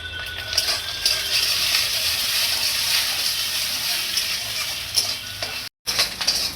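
An egg frying in a pan with salt added sizzles loudly and steadily, with stirring and light scraping of a utensil against the pan throughout.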